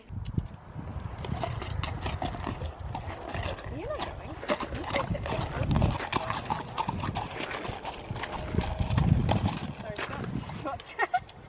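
Hooves of an Icelandic horse clip-clop in a steady walking rhythm, close and distinct, with people talking over the footfalls.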